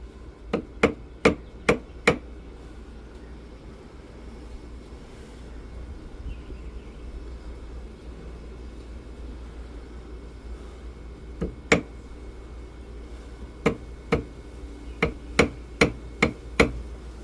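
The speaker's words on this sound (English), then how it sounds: "we're just tapping on the side with a ball peen hammer a little bit" A ball peen hammer taps sharply on the side of a metal part to straighten it, with a quick cluster of strikes at the start, a lone hit midway, then another rapid run near the end over a low steady hum.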